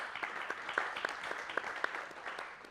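Audience at a conference on biowaste applauding as a speaker joins the stage, a faint, sparse round of claps heard from a distance with no talk over it.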